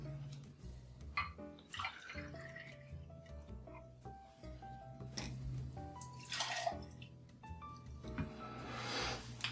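Vodka is poured into a measuring jigger or cocktail shaker for an espresso martini, a quiet trickling with soft drips and clinks, close by.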